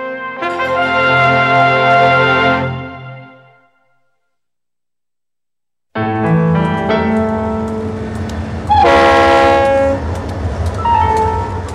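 A Union Pacific train at a triple underpass in downtown Dallas near Dealey Plaza blares its horn, cuts out briefly, then returns with rumbling wheels and a second loud horn blast, close and without voices.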